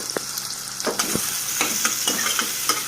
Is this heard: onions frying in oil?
yes